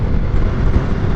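Benelli Leoncino 800 motorcycle engine running, a steady low rumbling drone with dense bass, held at constant loudness throughout with no pauses or voices.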